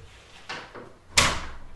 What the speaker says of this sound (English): open the door a crack,